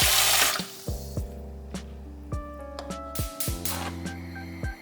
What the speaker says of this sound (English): Top it off with water 1 to 2 inches above the bones.